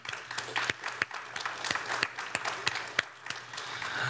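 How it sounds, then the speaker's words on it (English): Audience applause at an Earth Day lecture and student sustainability awards event, a dense crowd clapping steadily with sharp individual claps standing out, moderately distant and continuing throughout. "let's have one more round of applause to show our appreciation and support for all the student work presented today"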